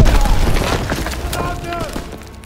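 Grenade blast in the Call of Duty WW2 campaign, a dense low rumbling boom with debris that trails off over a couple of seconds, under battlefield noise and shouting voices.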